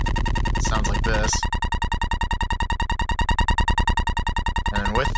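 Dry bass loop from the FL Studio sampler with no effects, a fast pulsing, buzzy repeating tone that loops steadily, bracketed by short bursts of a noisier processed sound at the start and end.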